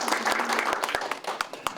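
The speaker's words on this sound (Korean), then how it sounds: "큰 박수로 축하해 주시기 바랍니다." An audience at a literary awards ceremony claps to congratulate a prize winner, a short burst of scattered applause with a few distinct sharp claps standing out, fairly close.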